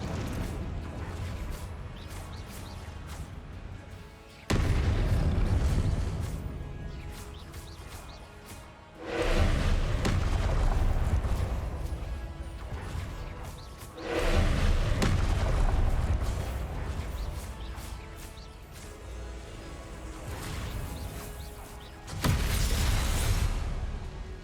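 Spell blasts from Confringo and Convulso go off in the Hogwarts Legacy video game. Four loud, booming bursts land several seconds apart, each with a sudden onset and a rumbling decay.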